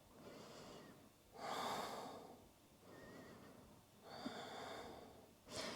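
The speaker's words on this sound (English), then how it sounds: "Breathe." Slow, deep breaths during a seated yoga session, soft and close, with long inhales and exhales alternating in a steady rhythm, with no talking.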